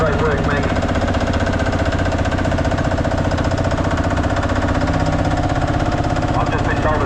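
A vintage tractor engine runs steadily and loudly at a tractor pull practice day in Korumburra, a continuous close-up chugging rumble with a rapid knocking pulse throughout, with voices talking over it.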